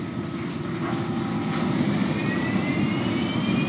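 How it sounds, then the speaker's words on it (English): A CNC stone-carving machine powering up, its tool spinning at 6,000 RPM, producing a loud, steady mechanical whine and roar that holds constant throughout with no speech. "now we're going to start up this machine and continue roughing out this piece"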